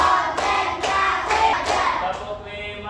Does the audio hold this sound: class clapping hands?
yes